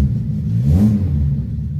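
A Peugeot 205 engine idles with a throbbing rumble, rising briefly in a short rev before settling back, running slightly rough with a misfire; loud and close, with no talk.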